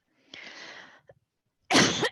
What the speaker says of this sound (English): excuse me, coughing the wrong direction.